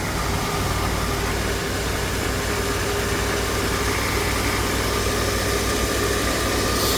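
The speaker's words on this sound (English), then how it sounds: "See, there's the engine." A 1984 Mercury Marquis engine idles steadily up close, a continuous low rumble with broad hiss and mild vibration, loud and unbroken with no talk.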